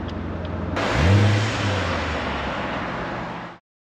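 Chevrolet Corvette C7 with a 470 hp V8 accelerating hard, a loud close roar swelling and then holding steady before cutting off abruptly.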